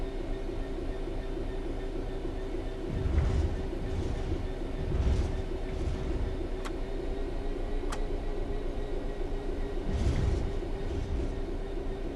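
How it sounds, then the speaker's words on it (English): Steady rumble of a locomotive coasting on level ground in the video game Train Sim World 4, with soft periodic thumps from the wheels and a couple of faint clicks, no voices. "The train will then coast on level ground"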